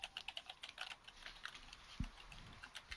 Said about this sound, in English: What are you typing, Bebo?